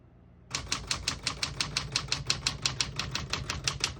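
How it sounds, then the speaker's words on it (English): Brisk, steady clacking of a 1959 Smith-Corona Galaxie portable manual typewriter, about five crisp keystrokes per second for several seconds, close and clear with no voices. "We're going to keep it on single and finish typing."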